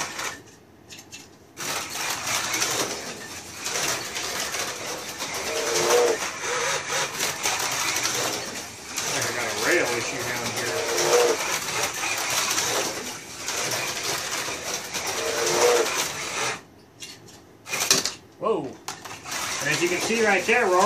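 A Tomy Mega G+ slot car runs laps on a track with a continuous whirring, rattling buzz that rises and falls as it passes, loud and close, with brief pauses near the end.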